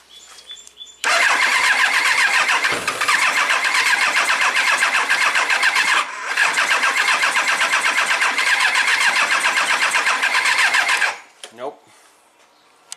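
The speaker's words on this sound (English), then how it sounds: "Now let me put it in and crank it over a couple more times." A 1999 Triumph Trophy 1200 motorcycle engine cranks over on the starter without firing, in two long, loud, continuous bursts separated by a short pause, then cutting off abruptly.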